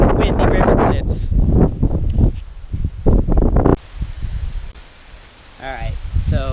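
Strong wind by the St Johns River buffeting the microphone with broad, roaring gusts, loud and close, while a person talks over it for much of the time.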